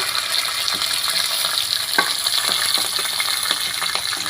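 Finely chopped ginger and garlic, with curry leaves, fry in hot oil in a pan for a bottle gourd dish, giving a steady, close sizzle broken by a few soft clicks of stirring.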